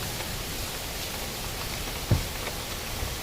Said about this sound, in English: Can y'all hear the rain?